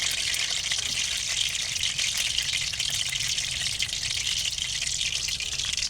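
Water sprinkled into hot oil for frying unniyappam-style snack dough balls crackles and spits in a dense, continuous hiss, close and steady, with no talking.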